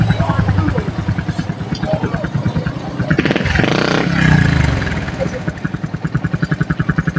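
A Yamaha Sniper 135 motorcycle engine failing to start, with a rapid rhythmic chugging of the starter turning over, a brief surge in the middle, then more cranking, loud and close under talk.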